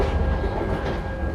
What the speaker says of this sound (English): did you hear the track joint sounds with the window down?